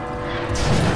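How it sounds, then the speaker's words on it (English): A heavy bell crashing in the Resident Evil 2 Remake, a dense, loud metallic clatter and roar that swells in the second half with no voices. "You guys probably can't even hear me over the bell crashing"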